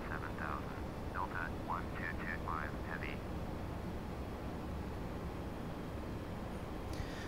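Steady broadband roar of an Airbus A319 cabin and engines in the FSX flight simulator, constant and enveloping during descent, with a few brief chirping tones early on and speech over it.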